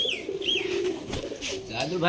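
Giribaz pigeons in a Bangladeshi loft of thirty-four birds give soft, wavering coos close by, overlapping in a low murmur over about two seconds.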